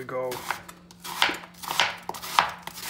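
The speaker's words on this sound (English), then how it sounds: "So we cut the onion in 2" A knife chops through an onion on a cutting board for sofrito, making several crisp, close taps at irregular intervals after a short voice at the start.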